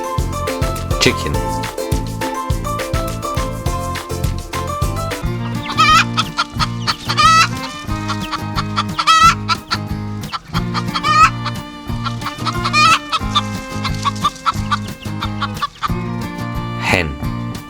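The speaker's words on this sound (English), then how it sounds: "chicken, chicken" A chicken clucks in short bursts over a cheerful children's song with steady rhythm, the bird calls popping out intermittently above the music.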